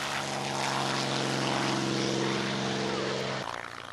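A P-51 Mustang fighter with a Packard Rolls-Royce Merlin engine drones loudly and steadily in a continuous roar, then the pitch drops as it passes.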